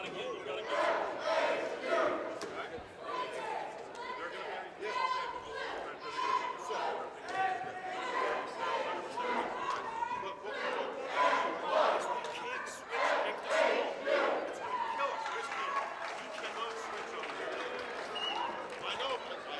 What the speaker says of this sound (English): you see the Fairhaven cheerleaders on the sideline with the Fairhaven crowd over there, getting the crowd going